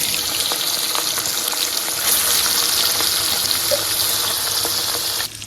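Continuous loud sizzling and crackling of fish coated in salt and turmeric frying in hot oil, bright and steady with faint pops throughout.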